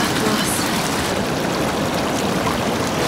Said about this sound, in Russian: Там прям такой порог.